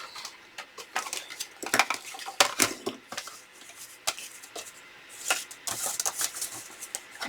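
Scissors cutting a paper journal card down to size, a series of crisp snips and rustling paper handling, close and moderately loud with irregular bursts and brief pauses.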